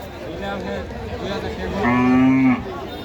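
At a Sunday cattle, goat and buffalo market in Champak Nagar, a cow gives one loud, drawn-out moo against a dense murmur of crowd chatter and market noise.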